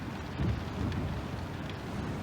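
Steady rain pours over a rooftop in the rain-soaked city of Lorville in a sci-fi video game, with low rumbling thunder swelling briefly and a continuous wash of downpour throughout, with no voices.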